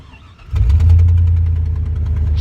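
A four-wheel-drive vehicle with 185,173 miles cranks and catches, its engine settling into a loud, close, steady idle with a rhythmic knock.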